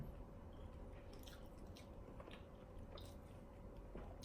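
Close-up chewing of something crunchy, with quiet crisp bites and crackles repeating over a steady low background hum.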